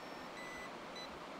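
Faint, intermittent high-pitched electronic beeps from magnet-fishing gear over a steady background hiss, a few short tones repeating irregularly.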